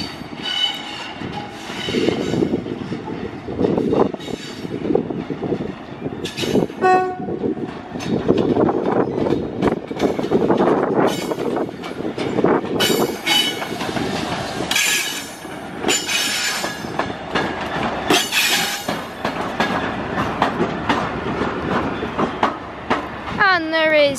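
Class 66 and Class 68 diesel locomotives, 66422 and 68017, haul a works train past at Crewe, with loud rumbling engines, rolling wagons and rail noise sustained throughout, plus some squealing from the wheels.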